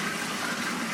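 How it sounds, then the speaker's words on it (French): Tap water running steadily in a rental apartment, a continuous close gushing rush from a faucet left open to flush after long disuse, with no talk over it. "Il faut laisser couler l'eau parce que ça fait longtemps que ça n'a pas été coulé."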